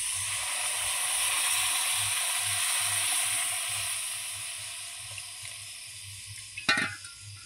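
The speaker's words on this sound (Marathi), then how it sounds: "आता ह्याच्यामध्ये आपण आता लागेल तसं पाणी टाकून घेऊया." Egg curry masala sizzles steadily in a pan as water is added, a broad hiss with a soft low rhythmic bubbling beneath, then a brief splashy clatter near the end; no one speaks.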